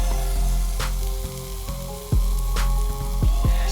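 Onions and cabbage sizzle steadily on a hot Blackstone griddle for fish tacos, a loud continuous frying hiss broken by a few sharp clatters and scrapes of a spatula on the steel surface.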